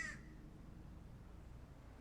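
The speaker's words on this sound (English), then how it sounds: "this crow showed up just in time for Shavasana. Making a bunch of noise" A single short crow caw sounds at the very start, faint and distant against a quiet, low background hum.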